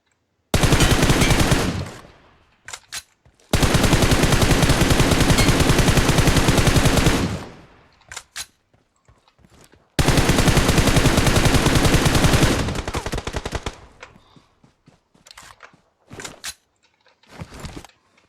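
Rapid automatic gunfire in PUBG Mobile, loud close bursts of several seconds each separated by silences, with scattered shorter volleys and single shots toward the end.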